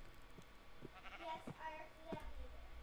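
Faint Minecraft sheep bleats, a few short wavering calls over quiet game ambience, heard at a distance and at low volume.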